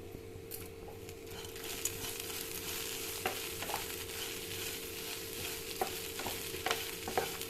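Steady sizzling of cabbage frying in a pan, with occasional scrapes and clinks of a spoon stirring, close and continuous, no voices.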